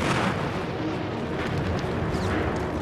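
Heavy, continuous rumbling explosions and booming blasts of tanks destroyed in a World War II video game battle fill the clip, loud and dense with no pauses or voices.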